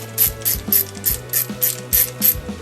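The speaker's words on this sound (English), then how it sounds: "we're going to remove the screws, 632 screws" The 6-32 screws are backed out of a GFCI outlet, producing close, crisp ratcheting clicks in a steady repeating rhythm, about eight evenly spaced strokes with no talking.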